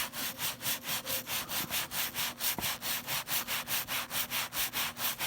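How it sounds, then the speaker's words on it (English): Soft bristle brush scrubbing Jordan sneakers with cleaner, a rapid, even back-and-forth swishing of about four strokes per second, close and steady, with no voices. "The soft bristle allows me to get into all those crevices."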